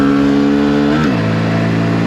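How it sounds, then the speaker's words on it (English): A Honda Grom motorcycle engine revs steadily and loud up close, then its pitch drops sharply about halfway through as it settles into a lower, steady drone on a late-night downtown cruise. "If y'all ever need more torque out of your Grom, just kick her down"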